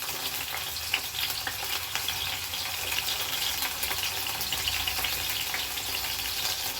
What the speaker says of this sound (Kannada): ಎಣ್ಣೆ ಕಾಯಿಲಿ. ಇವಾಗ ಇದಕ್ಕೆ ನಾವು ಈರುಳ್ಳಿ ಹಾಕೋಣ, ಮೆಣಸಿನ್ಕಾಯಿ ಹಾಕೋಣ.